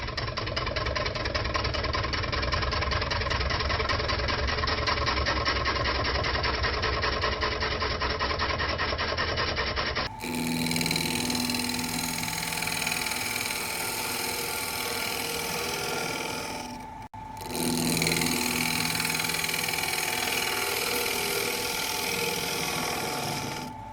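An oak bowl glued to a block spins on a lathe while a bowl gouge smooths its surface, giving a steady, loud rubbing drone with a constant motor hum that shifts in tone partway through and briefly drops out.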